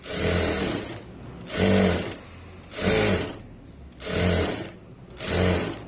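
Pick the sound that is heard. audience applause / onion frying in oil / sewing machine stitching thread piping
sewing machine stitching thread piping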